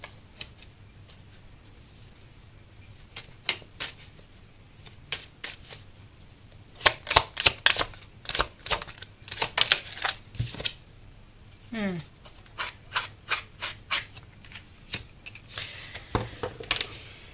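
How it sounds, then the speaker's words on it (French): Tarot cards are shuffled and drawn at close range, giving crisp riffling ticks and snaps in irregular bursts with quieter pauses between them; no talk. "Je vais sortir une carte pour Mercure."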